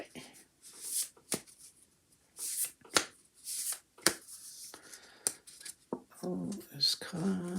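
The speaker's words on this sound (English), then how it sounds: "I'm going to pull another card from the Spirit deck" Tarot cards from a Spirit deck are handled and shuffled close up: soft papery riffles, slides and taps come in short irregular bursts, with a voice speaking between them.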